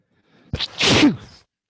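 A single human sneeze during a math lesson on concavity, a short sharp intake followed by a louder burst, heard close and alone in an otherwise quiet room.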